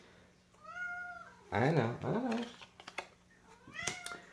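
A house cat meows several times in short rising and falling calls, close and fairly loud, with a person speaking briefly among them.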